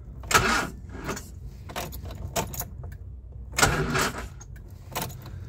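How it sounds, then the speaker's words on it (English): A 1969 Bedford camper's starter cranks the engine in repeated short bursts that fail to catch, with clicks and pauses between attempts, fairly quiet and close. "the starter is actually turning, it's just not turning over"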